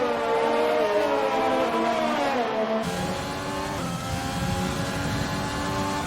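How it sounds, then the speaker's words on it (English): A McLaren race car in a racing video game, its engine note climbing through the gears with a loud, steady high-revving whine that drops and rises again near the end. "Here comes his teammate Doge in the McLaren, final couple of corners."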